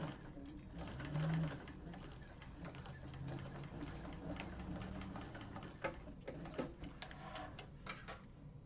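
A sewing machine stitching a Cassia satchel with purple thread hums in a steady, continuous whir close by, then stops for a moment before a few clicks and brief bursts of stitching.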